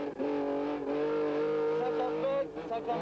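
Porsche rally car at full speed on a special stage of the 1997 Tour Auto, its engine note loud and close, holding steady with brief dips and rises through gear changes.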